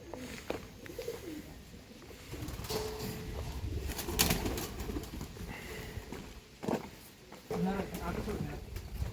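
Racing pigeons coo softly in a loft, with low murmuring calls and some fluttering and shuffling, heard under ongoing close conversation.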